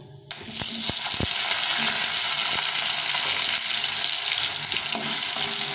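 Potato pieces cut into quarters drop into hot oil and burst into a loud, steady sizzle that keeps hissing close and continuous, with a few soft knocks at the start.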